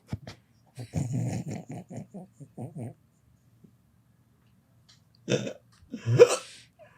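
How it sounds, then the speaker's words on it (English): A person hiccups twice near the end, two short, sharp bursts about a second apart, following a stretch of muffled voice sounds. "I got hiccups."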